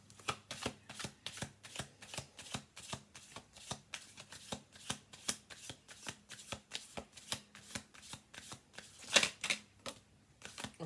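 A deck of oracle cards is shuffled by hand in a steady run of quick, crisp riffling ticks that continues for about eleven seconds, fairly quiet and close, with no voices.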